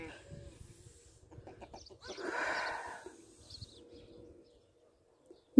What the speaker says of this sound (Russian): О, гуси прям сигнализация.